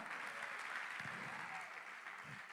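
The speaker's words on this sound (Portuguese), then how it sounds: "Aplauda ao Senhor Jesus." A church congregation claps together in sustained applause, a dense, even wash of hand claps that stays fairly faint and distant, with a few low voices murmuring beneath it.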